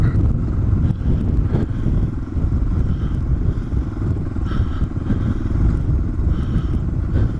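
A DR650 motorbike engine drones steadily and loud as the rider holds the throttle on through sandy desert track, a continuous low rumble with slight surges and no pauses.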